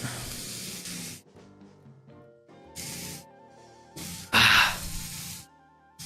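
Ground beef sizzles in a frying pan over a campfire, loud hissing bursts that flare and cut out several times, with faint tonal sounds in the gaps.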